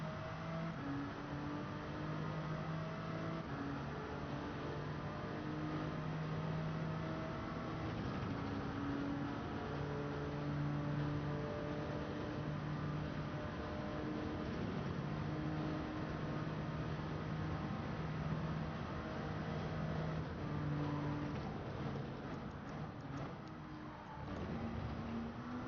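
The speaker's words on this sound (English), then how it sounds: "sounded like the engine got really bogged down" A race car engine in Gran Turismo 7 at Circuit de la Sarthe drones steadily for a long stretch, its tone shifting through gears and sagging as the engine bogs down, with no talk.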